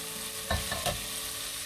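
Bitter gourd (karela) sabzi being sautéed in oil, a low, steady sizzle with a few soft stirring scrapes near the middle, quiet and close with no talking.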